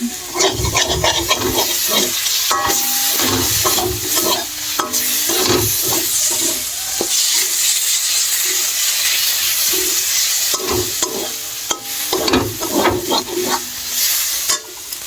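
Food being sautéed in a pan on a low flame: loud, close, repeated scraping and knocking of the spatula in quick bursts over a constant sizzle, with brief pauses between rounds of stirring.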